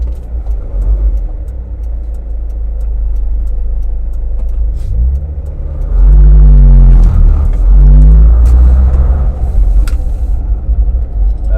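A Land Rover Freelander driving at a 4x4 action day, a loud, steady interior engine rumble that swells into a revving acceleration midway, with gear-shift rises and falls before settling back to a cruising drone.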